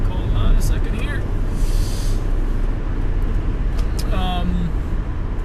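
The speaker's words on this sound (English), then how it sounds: "As I'm merging into traffic, hold on a second here." Car engine and road noise while merging into traffic, a steady loud drone from inside the cabin with passing vehicle sounds, and someone talking over it.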